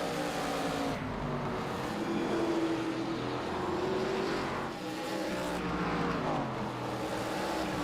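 Pro Cup Series race cars roaring around the Hickory short track, a loud continuous engine drone with cars sweeping past in swelling waves and no talk.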